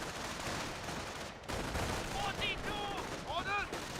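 Gunfire in the Company of Heroes video game, including an MG42 machine gun, rattles as dense battle noise with overlapping shots and whistling effects, under a voice speaking over the action.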